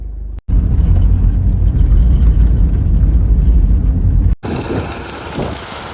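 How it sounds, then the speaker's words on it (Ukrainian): Strong wind blowing outdoors in a sunflower field at harvest time, a loud continuous rumbling roar buffeting the microphone, cutting out briefly twice and then easing into a lighter gusty rush. "в нас таке вітрисько на вулиці"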